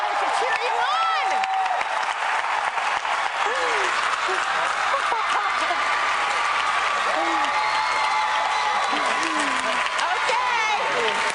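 A whole school gathered in Bethlehem, Pennsylvania cheers and applauds in a dense, continuous roar, with shouts and whoops rising over sustained clapping throughout.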